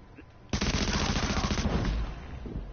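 A loud, rapid burst of automatic gunfire in Tom Clancy's The Division rattles for over a second, then cuts off, leaving a lower rumble behind.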